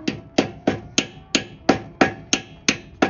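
A socket is hammered to drive an axle seal into a Sears GT garden tractor, ringing out as ten sharp, evenly spaced metallic strikes, close and loud with no talk.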